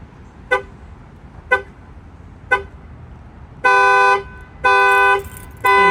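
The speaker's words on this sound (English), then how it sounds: "This is the GM countdown, and then it will set off the alarm." A Chevy Traverse factory car alarm sounds: three short evenly spaced chirps, then a loud, harsh pulsing siren blaring in long repeated bursts, close and with no talk.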